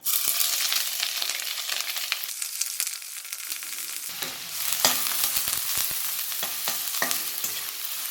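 Ginger and green chillies fry in a wok, a constant crackling sizzle with intermittent spatula scrapes and clatters, close and steady without speech.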